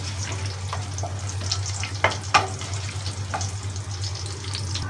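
Chicken korma ingredients roast in a hot pan, giving a steady close sizzle and frying hiss with a few sharper crackles and scraping stirs partway through.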